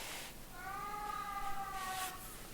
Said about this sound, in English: My cat is singing.